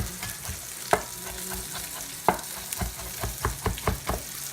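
Chicken pieces frying in a pan for chicken marsala, a steady close sizzle broken by sharp pops and the scrape of a utensil stirring and nudging the meat, with no talking.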